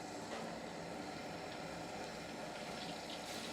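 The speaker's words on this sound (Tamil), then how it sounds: "இப்படி ஒரு பாத்திரத்தை வச்சு ஒரு பாத்திரத்தில் ஊற்றணும்" Liquid poured steadily into a vessel, a continuous gushing, splashing wash that holds even and fairly close for the whole stretch, with no voices over it.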